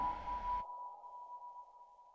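A synthesized steady tone made with the Elementary Audio web library sits alone with a rich reverb wash; a brief noisy burst at the start cuts off after about half a second, leaving the clean sustained tone ringing on.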